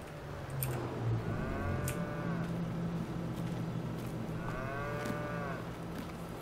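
Cattle moo in the farming video game Farming Simulator 22, two long drawn-out lowing calls a few seconds apart over steady background game ambience.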